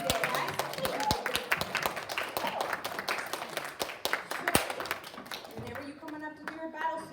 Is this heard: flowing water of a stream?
no